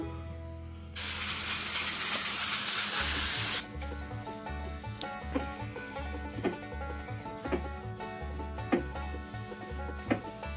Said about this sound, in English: I'm gonna use a brake cleaner and just a rag.